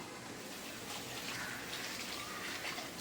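Bamboo shoots being placed into a vessel of water to soak overnight, with a steady broadband watery pour and splash running the whole time, close and moderately quiet, no talking.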